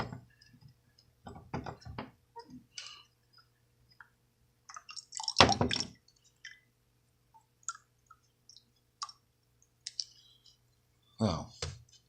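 A wet rockwool cloning cube squeezed by hand gives off scattered small clicks and drips, with one louder wet squelch midway and another near the end, set against a quiet background.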